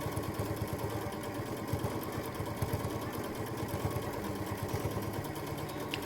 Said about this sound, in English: I can stitch all the way around the outside just to secure the two of them together